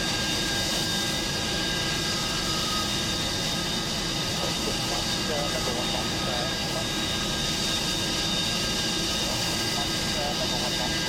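Avro Vulcan XL426 jet engines running steadily during a brake check, a loud continuous roar with a high whine throughout, voices talking over it.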